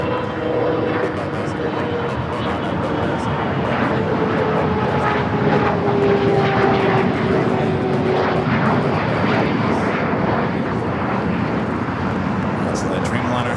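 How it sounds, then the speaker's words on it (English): A Boeing 787 Dreamliner jet airliner takes off at LAX, a loud, steady engine roar sustained throughout with slowly shifting tones, while a voice talks over it. "So the Dreamliner heading up there to the north side."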